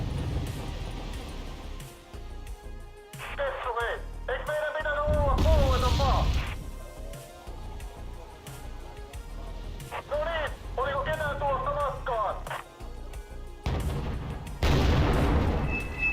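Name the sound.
artillery fire in the video game WARNO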